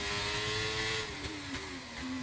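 A race car engine in a Formula racing video game revs hard, a steady high whine that shifts pitch downward as the throttle changes, continuous and prominent with no talk.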